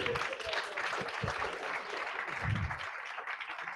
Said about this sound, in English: Applause for Giorgio, por favor.